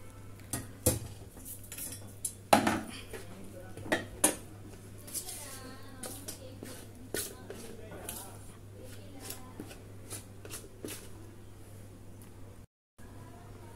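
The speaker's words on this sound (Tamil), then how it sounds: "இப்போ நம்ம கொதிக்க வச்ச மாவை இதில் ஊற்றி கலந்துக்கலாம்" A spoon scrapes and knocks against a pot while boiled rice flour dough for coconut moong dal kozhukattai is stirred, giving irregular clinks and scrapes up close, with a voice talking over them.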